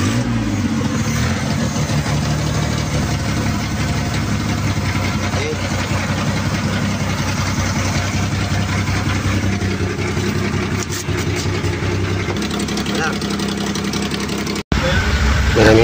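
A car engine starts and runs at a steady idle with its auxiliary electric cooling fan whirring, a loud continuous low rumble that holds for about fifteen seconds before a brief cutoff.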